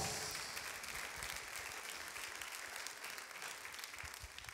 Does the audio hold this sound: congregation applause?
yes